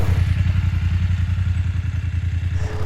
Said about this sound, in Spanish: Potencia tiene la moto, eso está claro.